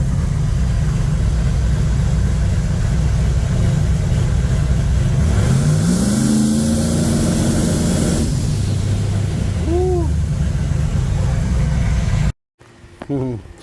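A turbocharged 1980 Pontiac Trans Am engine roars and revs on the trans brake, a sustained heavy rumble rising in pitch, then falling back before cutting out abruptly, with brief sounds after.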